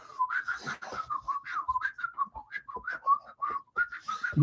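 Someone whistles a bouncy melody alone, clear, close notes skipping up and down in quick succession.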